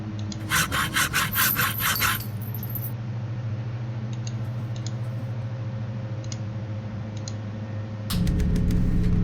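Hacksaw sawing in the video game Dead Secret, a quick burst of rhythmic back-and-forth strokes at the start, then quiet background hum, and a louder grinding rasp near the end.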